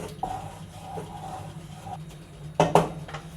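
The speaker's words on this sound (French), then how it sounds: "Et on remue." Cheddar and cream cheese with milk being stirred in a warm pan: a low, steady scraping and shuffling, with a couple of sharper clinks of utensil on pan near the end.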